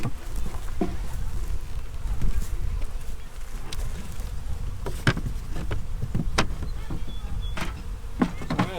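Package honey bees buzz around an opened hive during installation, a steady close swarm hum broken by sharp knocks and clatters of hive parts being handled.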